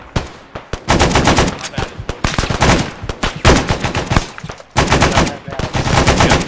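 Alternating bursts of M60 machine-gun fire crack loudly and close, trading short volleys back and forth in a steady rhythm with only brief pauses between guns.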